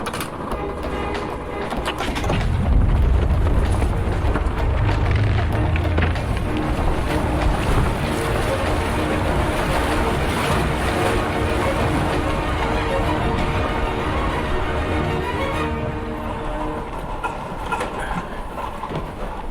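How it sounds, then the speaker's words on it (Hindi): A ship's four engines start up together, a broad steady rumble with rushing wind-like noise that swells in after a couple of seconds and holds loud and continuous throughout, with no talk. "ब्रिज कॉलिंग इंजन रूम, चारों इंजन को चालू करो।"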